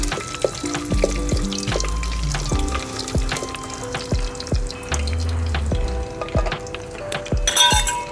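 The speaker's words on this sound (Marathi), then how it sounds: "खडे मसाले आपल्याला तेलात चांगले तळून घ्यायचे" Whole spices fry in oil in a pot on a wood-fired clay stove, a steady sizzle under repeated metallic clinks and taps of a spoon against the vessel, close and without talk.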